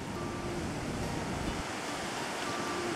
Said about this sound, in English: The Atlantic Ocean.